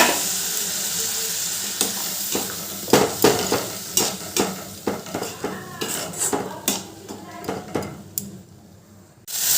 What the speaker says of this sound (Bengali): এবার সব মশলা ভালো করে কষিয়ে নেব সামান্য একটু জল দিচ্ছি যাতে মশলাটা তলায় না লেগে যায়